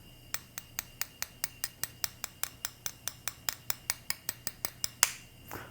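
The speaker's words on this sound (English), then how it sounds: "If you take the fatter end and you wanna kind of hit it with a spoon, and then you're gonna hear it crack" A spoon taps the fat end of an egg in a quick, even run of about twenty close, bright clicks, then one louder, duller knock as the shell finally cracks, heard alone without talk.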